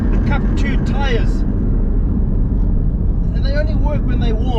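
Porsche Cayman GT4 on Cup 2 tires driven hard, a continuous loud engine drone and road roar from inside, with someone talking over it.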